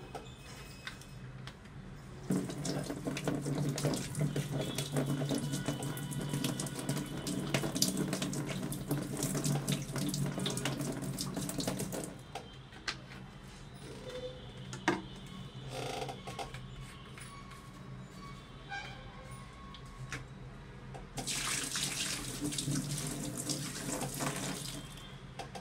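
Water mixed with hydroponic nutrients pours steadily into a tank for about ten seconds, then stops; scattered clicks and handling follow, with a brief final gush near the end.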